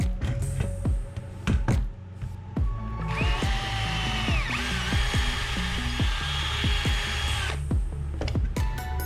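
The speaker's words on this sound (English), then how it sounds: "others you will need to drill them out carefully so that we don't drill into the door pieces" Power drill boring out old wooden dowel pins from a damaged boat door, the motor whining up in pitch in a long sustained run mid-clip amid shorter bursts and knocks, close and loud.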